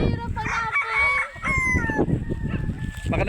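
Many chickens on a farmyard, with clucking and a rooster's crow rising over a busy flock close by, while a person talks.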